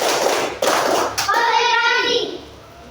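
Elementary school children in an Indonesian classroom clap their hands as part of a clap chant, a few sharp bursts of clapping followed by young voices chanting together.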